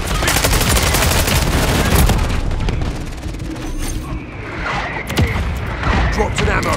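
Bursts of automatic gunfire and heavy booms crash up close in a Call of Duty match, dense rapid volleys for the first few seconds, easing off, then sharp single shots returning near the end.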